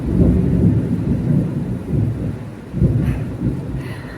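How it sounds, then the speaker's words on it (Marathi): Deep, rolling rumbles of thunder build and fade over steady rain, with a few louder swells and no talking. "खूप जोराने घडघडतं आहे"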